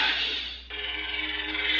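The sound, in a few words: blue lightsaber toy ignition sound, Princess Leia saber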